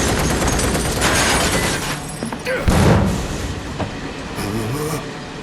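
A train runs through a Final Fantasy VII Remake game scene as a broad, steady rumble with rattling noise, holding near and loud throughout with a brief louder surge midway; a voice speaks over part of it.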